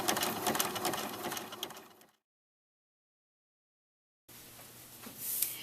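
Sewing machine zigzag stitching fabric edges for a tallit atarah, a close, fast mechanical whir that stops for about two seconds of silence and then resumes.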